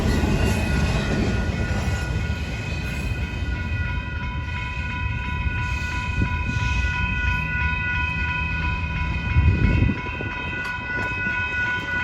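Freight train rolling past near the Kings Highway side road, a steady continuous rumble and clatter of railcars that eases off as the end of the train goes by.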